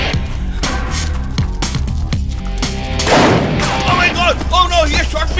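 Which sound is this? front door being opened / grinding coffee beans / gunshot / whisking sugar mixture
gunshot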